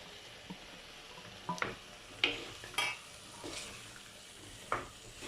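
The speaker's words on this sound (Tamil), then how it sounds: "சேர்த்து நல்லா கிளறி விட்டுருங்க." A spoon scrapes and knocks in a pan as raw banana pieces are stirred with sautéed onion, tomato, salt and turmeric. Scattered, close clinks and scrapes come a second or so apart over a faint sizzle.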